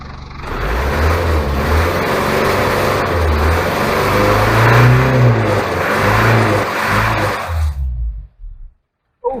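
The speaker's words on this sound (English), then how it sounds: "Oh, she's actually revving again." A Land Rover Series 2 engine, during a fanbelt replacement, revs loud and close with rising and falling surges, then drops away abruptly into silence near the end.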